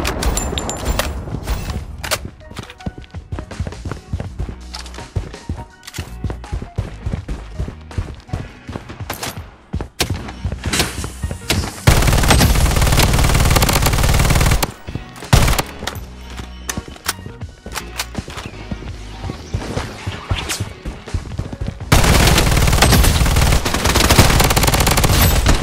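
Sustained machine gun fire in the video game Project BloodStrike, loud rapid bursts chattering almost nonstop, with dense continuous volleys and short pauses between strings of shots.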